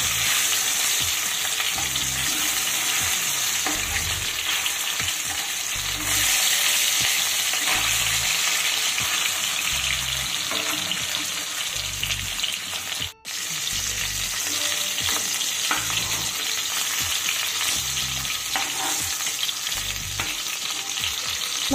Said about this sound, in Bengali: দেখো মাছগুলো কিন্তু আমার একদম ঠিকঠাক ভাজা হয়ে গেছে